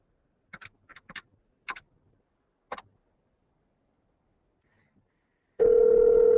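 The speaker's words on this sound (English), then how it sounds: "So you see I've got an incoming call there, and it's ringing" A SIP phone on a laptop rings with an incoming call routed through a PBX, a loud steady electronic ring starting abruptly after a few faint clicks and taps in an otherwise quiet room.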